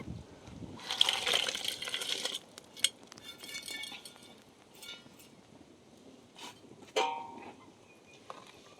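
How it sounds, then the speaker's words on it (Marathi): Stream-caught crabs dropping into a hot, bubbling spicy curry gravy for a Marathi khekada rassa, with a wet splashing burst near the start and scattered clinks and splashes afterward. "आता रसा चांगला कडकडा करतो या तर त्याच्यात टाकून घेते या खेकड"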